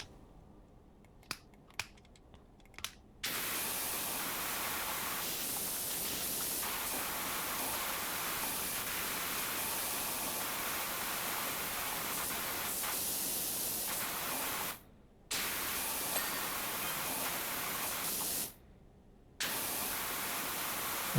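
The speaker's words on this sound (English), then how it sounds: "it just feels weird spraying up on the car" In a video game, a pressure washer sprays water onto a car as a steady hissing rush, broken by a few sharp clicks before it starts and two short pauses where the spray cuts off and then resumes.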